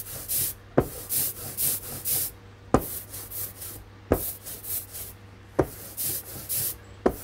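Rubber roller spreading woodcut printing ink across a glass slab, a sticky, tacky rolling rasp repeating in steady back-and-forth strokes, with sharper clicks where the roller lifts and sets down, quiet and close.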